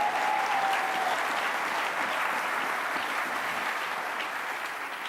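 A church congregation applauding together, a dense, sustained wash of clapping that holds steady throughout with a faint tone briefly audible at the start.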